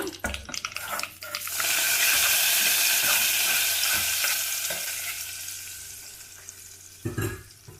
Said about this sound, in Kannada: ಒಗ್ಗರಣೆ ಹಾಕೋದು ತೋರಿಸ್ತೀನಿ